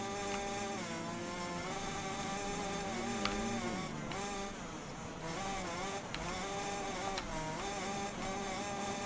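A 125 SX two-stroke motocross bike in a racing video game screams steadily at high revs, its buzzing engine note rising and falling with gear changes and throttle, loud and continuous.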